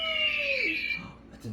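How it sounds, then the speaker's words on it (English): An animal caller toy plays a recorded eagle cry, a descending screech heard close and brief, with a voice speaking over part of it. "That's an eagle."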